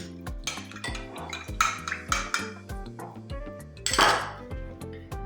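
Repeated clinking and scraping of a spoon against a bowl in a steady stirring rhythm, close and fairly loud, mixing warm water, sugar, salt and butter for pizza dough.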